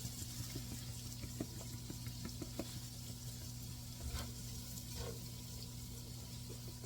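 Flour being stirred into hot sausage drippings for gravy, a soft steady sizzle with light scraping and small taps from the utensil, close but quiet, with no talk.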